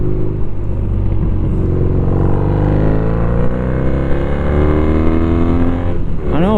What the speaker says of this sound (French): Alors on reconnaît un peu plus le moteur de la 90,